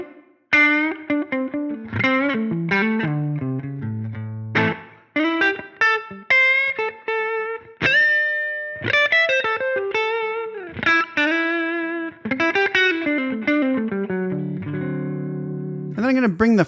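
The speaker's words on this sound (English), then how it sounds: "Very subtle little amount of ambience reverb." Clean electric guitar through a Line 6 Helix Dumble-style amp model plays melodic single notes and chords with a light, roomy ambience reverb tail, the phrases ringing clearly one after another.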